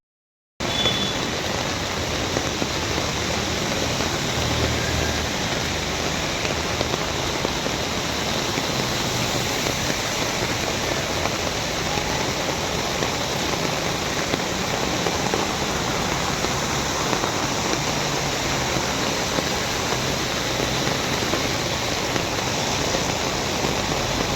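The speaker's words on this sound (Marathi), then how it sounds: "आणि इतका भरपूर पाऊस पडतो आहे" Heavy monsoon rain pours down steadily in Mumbai at a flooded Bhandup bus stop, a dense unbroken hiss of falling water that holds constant throughout with no voices.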